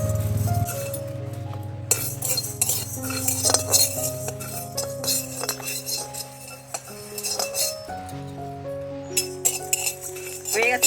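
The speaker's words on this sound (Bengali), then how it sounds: "ধনেটা ভেজে নিচ্ছি। এর সাথে জিরেটাও দিয়ে দিচ্ছি।" Coriander and cumin seeds fry in a pan while a metal utensil stirs them, giving repeated clinks and scrapes against the pan over a low background hum, with a faint voice now and then.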